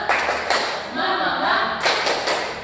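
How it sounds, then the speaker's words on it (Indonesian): A classroom group claps together in a rhythmic cheer, with sharp bursts of clapping separated by short pauses and faint voices in the background. "Coba tepuk aja ya. Tepuk semangat."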